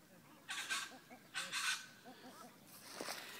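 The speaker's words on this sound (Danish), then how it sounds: "Og i baggrunden kan man have papegøjer og magpies." Birds calling in the background near kangaroos and gum trees in Australia, with parrots and magpies named, giving a few faint, brief squawking bursts and chattering notes, quiet and distant.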